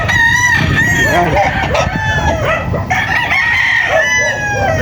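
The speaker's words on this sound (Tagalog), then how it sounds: "At ito po yung ibang manok nila." Several roosters at a Tres Amigos game farm, Melsim Black and Gray Roundhead bloodlines, crowing loudly and close, long overlapping calls one after another with clucking underneath and no pause.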